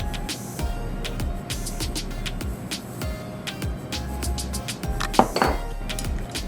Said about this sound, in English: I'll mix it all together.